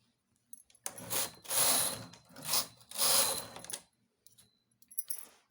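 Knitting machine needles pushed forward to transfer stitches while working a tree-shaped design: three bursts of mechanical ratcheting and sliding clatter, close and fairly quiet, separated by short pauses, with a few faint clicks afterward.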